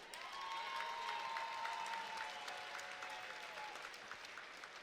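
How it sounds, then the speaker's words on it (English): Crowd applauding two fighters at a cage fighting event after the bout, fairly quiet and distant, sustained clapping with a faint tonal hum running through it. "round of applause for these 2 fighters"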